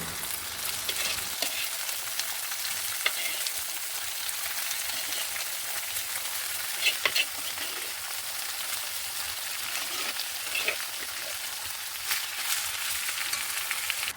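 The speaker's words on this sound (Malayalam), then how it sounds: "ബീഫൊക്കെ ചേർത്ത് നല്ലോണം ഇളക്കി മിക്സ് ആക്കി കൊടുത്തിട്ടുണ്ട്" Precooked beef is stirred and fried in a pan with garlic and curry leaves, giving a dense, constant, close sizzle like heavy rain, with occasional sharper scrapes and clinks of the spoon.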